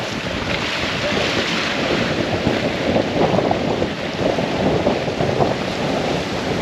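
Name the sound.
strong wind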